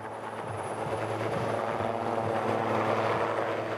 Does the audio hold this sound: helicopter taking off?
yes